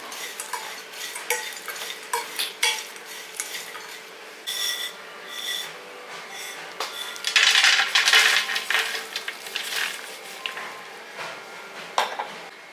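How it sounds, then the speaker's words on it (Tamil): Flattened rice is dry roasted in a pan for sathu maavu laddu, giving dry rustling and scraping as it is stirred, with frequent metallic clinks of a spoon against the pan, close and fairly loud. "இந்த சூட்லேயே அப்படியே வறுத்துருங்க ஒன்று சேர்த்து"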